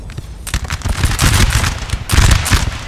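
Musket volleys crackle through a Napoleon Total War battle, dense overlapping gunfire popping in fast irregular bursts, loud and continuous with no voices.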